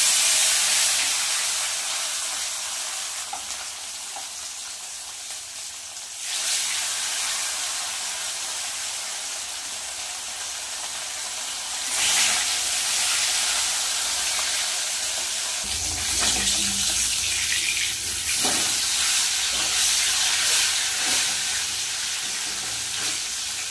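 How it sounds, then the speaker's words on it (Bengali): Bhola fish fry in hot oil in a kadai, giving a loud, continuous close sizzle and hiss that swells at times as the pieces shift, with no talking. "তেল কিন্তু গরম হয়ে গেছে, এবার মাছগুলো ভেজে নেব।"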